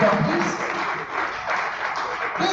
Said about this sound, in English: Please, a round of applause as she goes down to the podium